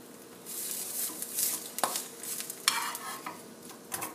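An egg sandwich frying in a pan, flipped and then covered with a lid: steady sizzling with close scraping and stirring strokes, a few sharp clinks of a utensil against the pan and a brief metallic clatter as the lid goes on.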